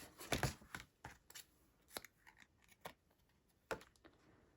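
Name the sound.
cutting an adhesive strip off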